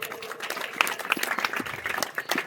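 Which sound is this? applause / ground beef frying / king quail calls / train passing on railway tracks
applause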